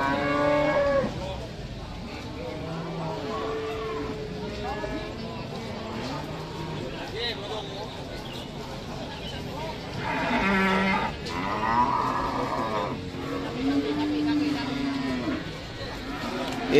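Cattle moo repeatedly at an Indonesian livestock market where slaughter cattle are traded, the long lowing calls rising over a busy crowd with steady chatter throughout.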